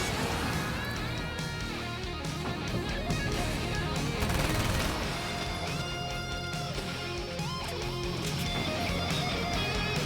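Rapid shotgun blasts in the action game Alan Wake's American Nightmare, a fast run of repeated gunfire cracks layered over loud music and game sounds that continues steadily for about ten seconds.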